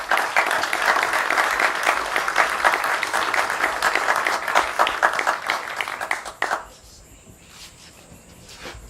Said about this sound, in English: Please applaud Inspector John.